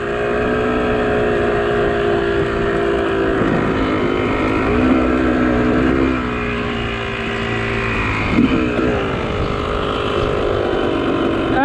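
A dirt bike engine idles and revs loud and close throughout, with a high whistle from an exhaust leak at the front riding over the steady exhaust drone.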